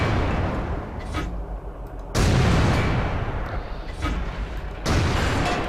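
In World of Tanks, an AMX 13 75 tank gun fires with heavy, booming blasts. Two abrupt, loud reports cut in over a constant rumbling battle background.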